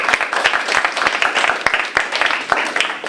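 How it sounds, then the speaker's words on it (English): A seminar audience claps steadily for Dr. Obutu after a talk at a community photography project event, a dense, even patter of hands that holds for several seconds at moderate loudness. "A good clap for Dr. Obutu,"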